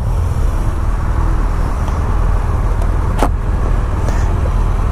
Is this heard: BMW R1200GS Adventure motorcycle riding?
yes